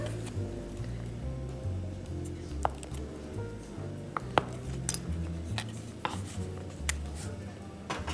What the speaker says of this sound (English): We'll go ahead and open up some of the cheese sticks and slice them into smaller pieces.